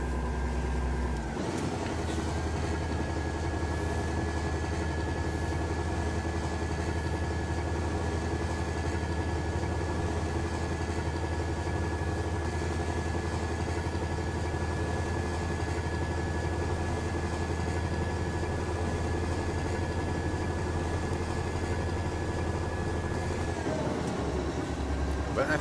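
Scania 143 truck engine idling in Euro Truck Simulator 2, a steady low diesel drone with a constant higher whine layered on top, running unbroken and fairly loud for the whole length.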